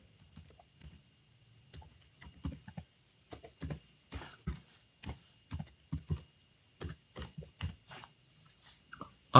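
Typing an email address on a computer keyboard: a run of separate key clicks coming in short bursts and pauses, close and fairly loud, with no talking over it.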